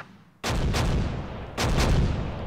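Mortar battery firing in the video game Close Combat: two loud, booming blasts about a second apart, each with a long rumbling tail.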